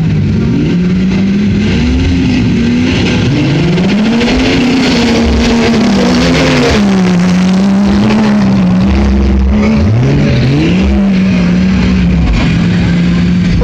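A Ford Ranger pickup off-roading on a county road near Yuma, Arizona, its engine loud and close, revving and rising and falling in pitch throughout, with faint voices underneath.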